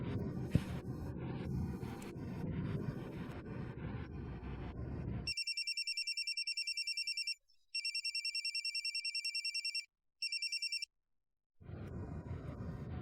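An outgoing phone call rings back as a repeating electronic ringtone, a steady pulsing tone in several bursts with short gaps, after a stretch of noisy background.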